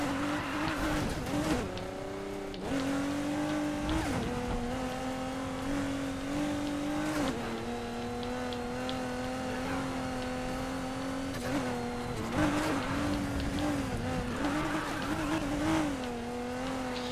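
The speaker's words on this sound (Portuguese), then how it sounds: "Acho que esse Aston Martin aqui é tração traseira, então era pra ele sair bem de lado." A rear-wheel-drive Aston Martin on track tyres drifts in the racing video game Need for Speed Heat, its engine droning steadily with pitch dips at shifts and brief revs, constant and close.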